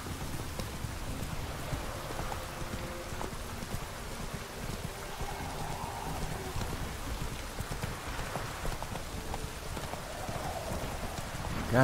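Steady rain falls in The Witcher 3 video game, with gusty wind and a soft clip-clop of a horse's hooves, a continuous broadband wash filling the scene at even loudness.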